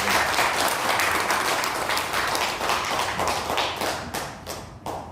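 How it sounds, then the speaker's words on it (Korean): A church congregation applauds at a 25th anniversary Sunday service, steady dense clapping that thins near the end into a few final separate claps. "정말 수고하셨는데 박수 다시 한번 드립니다"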